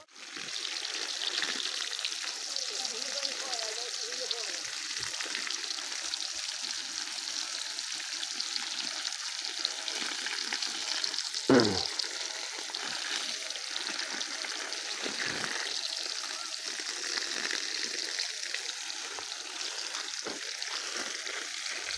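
Battery-powered DC submersible pump pushing water: a steady, faint, continuous hiss and trickle of flowing water with one brief sharp knock midway, no talking.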